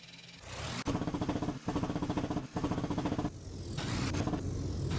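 A car engine in the Roblox game Thai Racing revs hard in bursts, climbing in pitch through a few sharp gear changes, loud and close with brief cuts between pulls.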